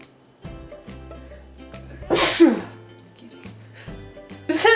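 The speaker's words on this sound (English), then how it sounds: "It's the dumbest sneeze I think I've ever done." A single sharp sneeze bursts out mid-clip, loud and close, with quieter background sounds before and after and another brief burst at the end.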